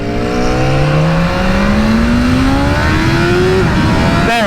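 A BMW S1000RR sport bike engine revs up steadily to high RPM, its pitch climbing in a smooth rising whine over several seconds before the throttle snaps shut near the end; loud and close, with no talk.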